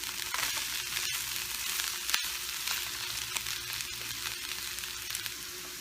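French beans with chili powder fry in a pan, a constant crackling sizzle that runs throughout, broken by a couple of sharp clicks.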